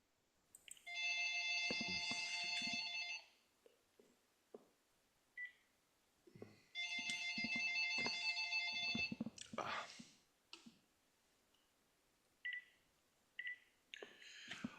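A telephone rings in two separate bursts of electronic trilling, each about two seconds long, fairly clear in a quiet room, with faint scattered noises between them.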